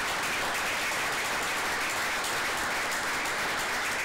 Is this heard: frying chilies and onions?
no